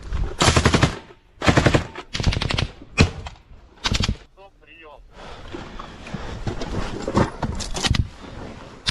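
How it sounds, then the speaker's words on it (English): Short bursts of gunfire in close combat in the war in Ukraine ring out in quick clusters, alternating with a voice speaking nearby, then a steady rumble underneath continued talk. "short bursts of gunfire are exchanged back and forth between the two sides."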